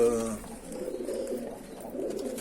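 Male bango pigeon, blind in one eye and very agitated, giving a low throaty coo inside a coop, close and fairly continuous, with a soft rolling rhythm.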